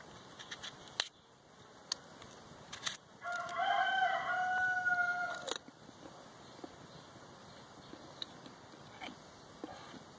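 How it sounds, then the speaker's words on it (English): A rooster crows once, a clear, fairly loud call lasting a couple of seconds, set against a quiet garden backdrop with a few scattered taps and clicks around it. "nothing like having a bunch of roosters"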